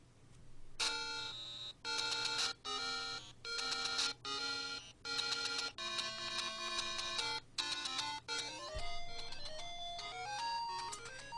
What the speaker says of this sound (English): It was the ringtone that he dug up.